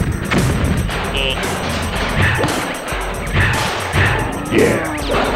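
Rocket explosions go off in the BoomBots video game on PS1, a series of loud booming blasts and crashes about once a second over busy game sounds.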